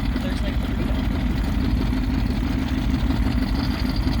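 Old vintage boat engine, a barn find started for the first time in decades, idling steadily with a deep, even low rumble throughout, close and loud.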